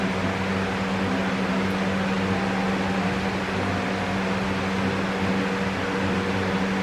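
A new air conditioner condenser fan motor with its blade fitted spins freely during a test, making a steady whirring drone with a constant low hum and broad airy noise throughout, close and fairly loud.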